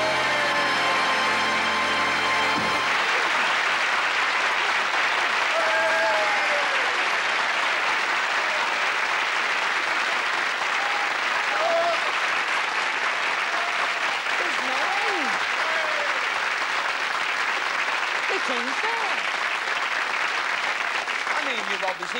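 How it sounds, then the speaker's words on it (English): Enthusiastic audience applause after a magic trick on a 1985 Easter special of a television magic show, a dense, steady clapping that fills the room without letup, with a few voices cheering over it. "Once you did it, they clapped like heck."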